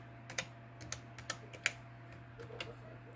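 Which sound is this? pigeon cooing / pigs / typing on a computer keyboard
typing on a computer keyboard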